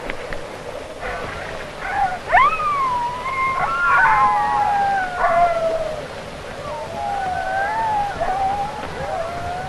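Several sled dogs howl and yip outdoors in a blustery storm, overlapping wavering cries rising and falling over a steady rushing background, with an old-film hiss throughout.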